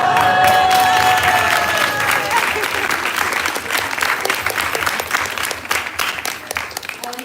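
Crowd at a bhakti talk breaking into loud applause with some cheering, dense clapping that gradually thins and fades toward the end.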